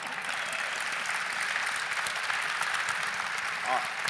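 Steady applause from an audience at a White House Initiative on Educational Excellence event, a sustained wash of many hands clapping at moderate level, with a faint voice briefly over it.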